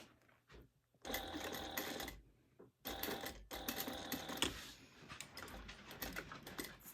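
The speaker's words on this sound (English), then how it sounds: "So we're just gonna baste that on at 1/8 of an inch." A sewing machine basting a bag strap at a narrow seam allowance, running in several fast rattling bursts separated by short pauses, close and clear with no talking.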